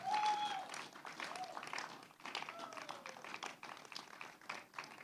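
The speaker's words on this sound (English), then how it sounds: "let's continue clapping for him" An audience at a public event claps steadily for a man walking to his seat after speaking about becoming governor of Edo State, with a few voices and whistles faintly mixed in.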